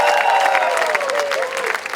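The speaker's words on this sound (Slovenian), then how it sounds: "Aplavz za vse naše sponzorje!" Audience applause after a Slovenian event host's call to clap for the sponsors, dense and steady throughout with cheering voices and some tonal whistles mixed in.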